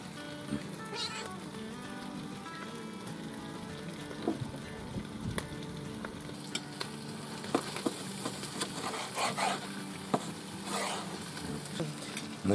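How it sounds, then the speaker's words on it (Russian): Pork fat (salo) rendering in a pan for bograch goulash, giving a steady, moderately loud sizzle with scattered crackles and pops over the whole stretch, with some faint background household sounds. "Сало топится."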